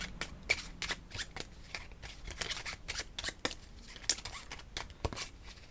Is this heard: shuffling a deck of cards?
yes